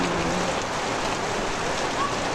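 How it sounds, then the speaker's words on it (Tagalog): Heavy rain pours steadily on a rainy Sunday, a dense, even hiss of drops on surfaces throughout, close and constant with no voices. "maulang linggo, ang lakas ng ulan"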